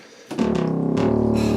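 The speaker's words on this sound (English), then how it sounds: "That's the sound of the little fatty when I stand on the bass pedals." Moog Little Phatty synthesizer driven from bass pedals, a rich sustained bass tone that starts after a short quiet moment and holds steady and loud to the end.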